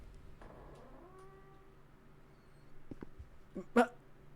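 Cats meow faintly in a cat ballroom of a Roblox horror game, drawn-out cries over a low steady hum, followed by a few short clicks and one louder sharp cry near the end.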